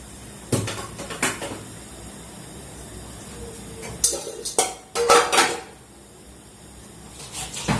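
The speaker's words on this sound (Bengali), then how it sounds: "আমি থালা বাটি কয়টা ধুয়ে নিব।" Plates and bowls clatter during washing at a home sink, with scattered clinks and knocks of dishes and cutlery coming in irregular bursts, loudest near the middle, over a faint background hiss.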